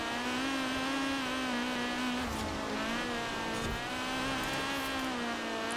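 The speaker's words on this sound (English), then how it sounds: "still accelerating up this hill like nothing" A car in Forza Horizon 4 accelerates uphill, its engine holding a strong, steady high-revving drone with slight pitch wavers for several seconds, loud and close, with no speech.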